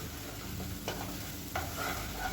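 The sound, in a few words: plantain fry being stirred in a pan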